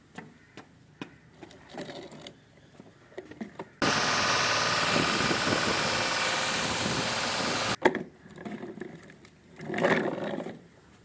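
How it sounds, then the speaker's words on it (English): A steady, loud engine roar from an oil tanker truck, idling alone for about four seconds and starting and stopping abruptly, with quieter noises before and after. "This is oil tanker."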